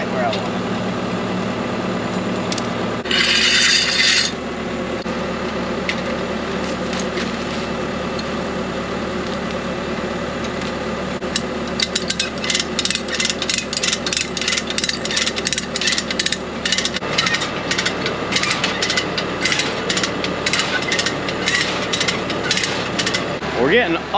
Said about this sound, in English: And I just so happen to have a come-along right here.